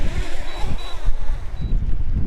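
Strong gusty wind roars and buffets the microphone outdoors during a DJI Mini 2 drone flight, with a thin, steady high whine from the drone surfacing intermittently through the rumble.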